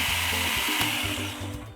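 A food processor blends olive tapenade into a coarse paste with a steady, loud motor whir throughout, over a low rhythmic background beat.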